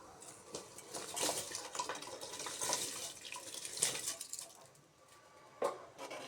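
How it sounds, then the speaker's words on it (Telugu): Washed rice tipped into a pot of boiling water while making bagara rice, with clinking pot and utensil knocks, splashing water and stirring, close by and with no talking. "ఈ వాటర్ బాయిల్ అవుతున్నప్పుడు మనం ముందుగా కడిగి పెట్టుకున్న రైస్ని ఆ వాటర్లో వేసేద్దాం"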